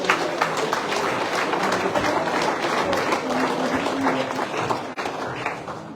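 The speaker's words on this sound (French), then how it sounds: "Je vous demande de les applaudir." An audience at a volunteers' appreciation evening claps warmly, a crowded mass of overlapping handclaps holding steady and fairly close before easing slightly near the end.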